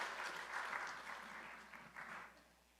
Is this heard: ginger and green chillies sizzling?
no